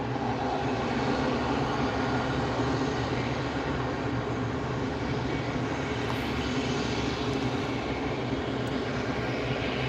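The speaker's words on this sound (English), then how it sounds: "an American Airbus A320-200 coming from Phoenix, Arizona" An American Airbus A320-200 arriving from Phoenix makes a continuous, loud jet roar that stays close and steady throughout, with no voices over it.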